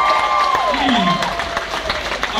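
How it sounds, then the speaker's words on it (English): Stand-up comedy audience clapping and cheering in a steady wash throughout, with voices and whistle-like cries riding over the crowd noise. "give me some, come on, round of applause,"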